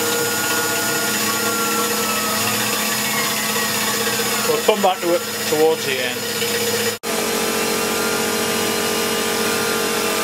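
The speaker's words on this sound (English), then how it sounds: "I don't know if you can hear me above the noise of the compressor" An air compressor runs in a machine shop where a Tormach PCNC mill is cutting a spiral grease groove, a steady tonal mechanical drone under a man's brief speech, dipping for a moment near the end.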